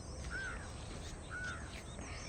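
A bird calls twice by a lake, two short bright whistled notes spaced about a second apart, faint over a steady outdoor background hiss with no talking.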